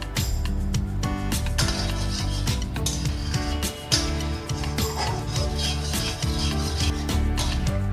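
Jaggery syrup is stirred in a pan on a gas stove over medium flame, with repeated scraping and rubbing strokes against the pan and occasional light clinks, close and continuous, with no talking.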